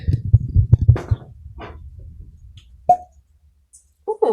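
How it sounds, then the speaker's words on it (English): A small cork pops from a bottle of Missouri single barrel double oak heavy char bourbon, one short soft pop after a stretch of low murmuring, followed by quiet. "That was an adorable cork pop"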